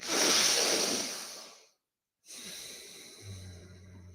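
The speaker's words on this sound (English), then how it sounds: "when we break the hold and we breathe in through the nose immediately" A sharp, strong inhale through the nose after a breath hold, followed by a short silence and then a softer breath with a low hum underneath.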